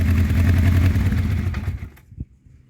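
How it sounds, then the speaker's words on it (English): A 1984 Honda CB700SC Nighthawk engine runs with an uneven, misfiring idle, a loud close rumble that falters and cuts out after about two seconds, followed by a brief clunk. "Sounds like a couple cylinders are firing."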